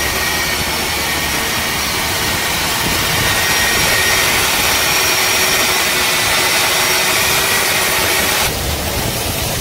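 At a bridge construction site, a machine cutting iron automatically roars loud and steady, a dense, unbroken, close-up mechanical drone that shifts slightly near the end.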